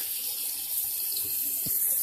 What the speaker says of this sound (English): Now let's turn this over to the cold water, which on this faucet it just switches over.